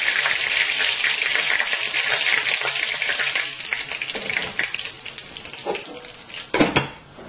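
Duck breast sizzling loudly in a frying pan, a dense steady crackle up close, with a few clinks of a utensil against the pan near the end.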